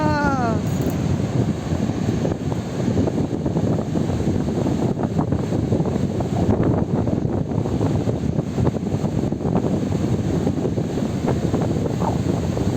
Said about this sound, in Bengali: এখানে সমুদ্রের গর্জন শুনতে পাচ্ছেন আপনারা